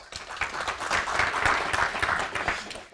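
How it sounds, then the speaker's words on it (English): An audience at a talk on learning breaks into a burst of dense applause, many hands clapping briskly and fairly close, swelling and then easing off over a few seconds. "Round of applause."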